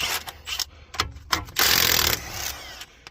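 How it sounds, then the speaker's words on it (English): A ratchet works a control arm bolt loose on a 2015-2021 Kia Sedona: quick close clicks and scrapes, then a steadier rasping run of ratcheting for about half a second, with no speech. "Okay, so now I'm gonna remove the bolt."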